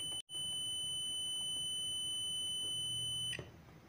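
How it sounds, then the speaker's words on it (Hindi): A multimeter's continuity buzzer sounds as its probes close a circuit, a steady, loud, close electronic tone held for about three seconds after a brief break, then cutting off. "देखो जैसे लगाएंगे इसके अंदर बजर की आवाज़ आएगी।"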